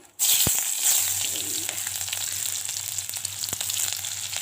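Onions tipped into hot oil in a pan for an Assamese dish, a loud immediate sizzle that bursts in and holds as a steady bright crackle, with a low hum beneath it.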